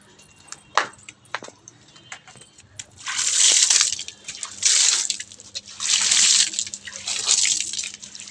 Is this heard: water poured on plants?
yes